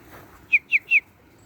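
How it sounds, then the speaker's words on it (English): A backyard bird of the kind found among cardinals, woodpeckers and finches gives three quick, bright chirps in a row, clear and fairly close against a quiet background. "Cardinals and woodpeckers and Florida brown birds and finches."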